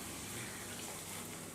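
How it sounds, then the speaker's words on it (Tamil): Water left from boiling green peas is poured into a pan for a brinjal and pea thokku, giving a steady, close, continuous splashing gush with no talk. "கொஞ்சம் உப்பு சேர்த்துட்டு நம்ம பச்சை பட்டாணி வேக வச்ச தண்ணியை சேர்த்துடலாம்."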